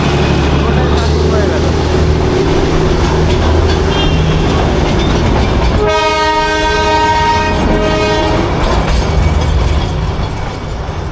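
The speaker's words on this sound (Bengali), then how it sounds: "টয় ট্রেনের দেখা পেয়ে গেলাম" The Darjeeling toy train passes close by with a loud, steady rumble. Midway it sounds a long, sustained horn blast over the rolling noise, with voices faint in the background.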